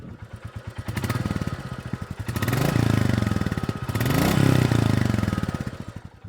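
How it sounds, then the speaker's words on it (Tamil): Royal Enfield Classic 350 single-cylinder motorcycle, 2025 model, with its thumping exhaust beat close by as the throttle is blipped and revved in repeated swells, rising and falling over several seconds with no talk. "கொஞ்சம் ரைஸ் பண்ணி பார்ப்போம் அந்த த்ரோட்டி, ஐ மீன் அந்த தம்பிங் எக்ஸாஸ்ட் நோட் எப்படி இருக்குது"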